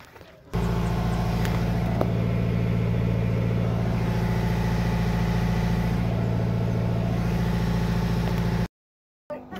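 Newly overhauled 2017 Ford Ranger 2.2 truck with low power and blow-by, engine idling with a steady close rumbling drone and faint ticking, cutting off abruptly near the end before a brief restart of sound.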